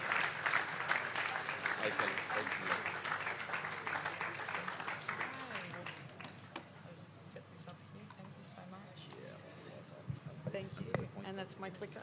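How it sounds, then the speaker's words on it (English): Audience applause at the DatafestAfrica 2024 event, loud at first and gradually thinning, as a speaker comes up to the stage, with voices talking and a few scattered claps toward the end. "With a round of applause as Kelly comes up stage"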